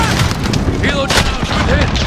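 A helicopter is shot down in a military shooter video game, with a booming blast amid steady gunfire and combat noise, heard close and loud throughout.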